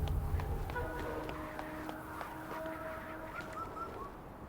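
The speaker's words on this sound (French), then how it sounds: "Un oiseau, là." A bird in the video game Wuchang gives a series of short honking, goose-like calls over a busy game soundscape with footstep-like clops.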